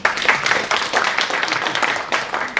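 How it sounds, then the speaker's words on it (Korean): A seminar audience at a wildfire aerial-firefighting event bursts into loud, sustained applause welcoming a panel moderator, thick crackling claps filling the room with no talk over it. "큰 박수 부탁드리겠습니다."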